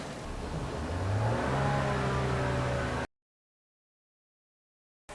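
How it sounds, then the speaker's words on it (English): Car engine with diagnostic trouble codes including P0171 and P0131 revved up to about 3,500 RPM, a steady rising drone close to the microphone that holds for three seconds and then cuts off abruptly. "I'm going to see if I can bring up the RPMs on this car"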